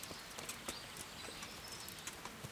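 Horse hooves clip-clopping in Kingdom Come: Deliverance, a steady sequence of crisp, fairly quiet hoofbeats over a soft game ambience, with no talk.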